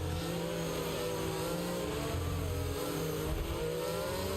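Formula 1 car powering out of a corner at Spa in Belgium in F1 2022, a steady high-revving engine drone with shifting pitch that holds loud and continuous throughout, with no talking.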